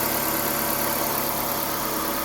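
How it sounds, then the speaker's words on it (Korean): Chevrolet Spark M300 small petrol engine running at a steady idle after starting, a constant close mechanical hum with faint vibration and no voices, during a coolant drain for a thermostat and upper hose replacement. "시동을 걸어 냉각수를 배출합니다."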